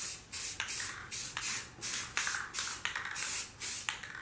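Spray can laying a thin coat of poppy red paint onto car wheels, rapid rhythmic bursts of hissing spray, about a dozen short passes in a row, close and without talk.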